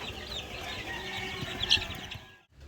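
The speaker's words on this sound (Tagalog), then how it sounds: "meron dito yung crossbreed ng Rhode Island Red at saka White Leghorn" Rhode Island Red and White Leghorn crossbreed chickens cluck and chatter in a crowded farm pen, a steady overlapping flock murmur with one brief sharper call near the end before it fades.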